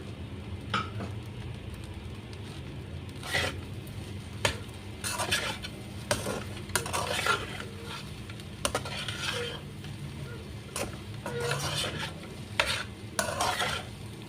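Cabbage is stirred into fried rice in a pan. A spatula scrapes and clinks against the metal in irregular strokes over a low, continuous sizzle, close up, with no talk.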